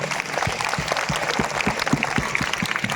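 An audience applauding at a church ordination anniversary celebration, with steady, moderately loud clapping from a group of people and no talking.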